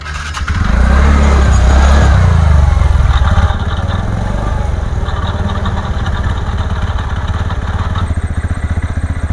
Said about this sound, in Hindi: थोड़ा RPM ज़्यादा हो गया है